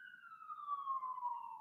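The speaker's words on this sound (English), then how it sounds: "Okay, there's an ambulance going by." A single ambulance siren on a street in San Francisco's Pacific Heights, one steady wailing tone gliding slowly downward as the vehicle passes, clear and fairly close with no voices over it.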